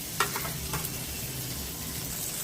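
Tomatoes sautéing in a pan for a chayote coconut milk curry, a steady close sizzle with a couple of light stirring scrapes near the start.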